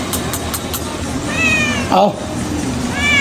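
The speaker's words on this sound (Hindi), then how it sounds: "म्याऊं म्याऊं नहीं करो ज़्यादा।" A cat gives a few close, loud meows in short bursts, while a person briefly calls out nearby.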